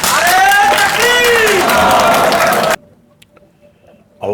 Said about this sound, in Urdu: آپ کی بھرپور تالیوں میں اور عزت افزائی میں